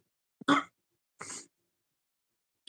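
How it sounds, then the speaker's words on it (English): Two separate coughs from one person, close and fairly quiet, about a second apart, each a short harsh burst, followed by near silence. "I don't know why I'm coughing all of a sudden."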